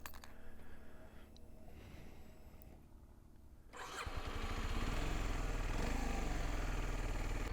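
A Kawasaki Ninja 125 motorcycle engine cranks and starts after a quieter stretch, then settles into a loud, steady idle close by.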